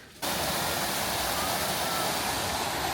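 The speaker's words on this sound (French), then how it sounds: "Et à côté, il y a la cascade." A waterfall on the island of Langkawi, Malaysia, roars as a loud, dense, unbroken rush that starts abruptly and holds steady throughout.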